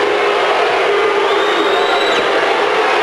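A basketball crowd in a gym, unhappy with the officiating, fills the space with a steady, loud roar of indistinct booing and voices throughout, with no single voice standing out.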